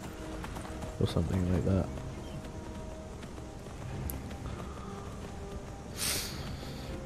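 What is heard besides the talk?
horse hooves in Skyrim video game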